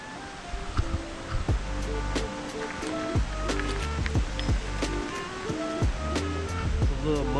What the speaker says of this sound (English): we have to go check the waterfall out, see what's going on over there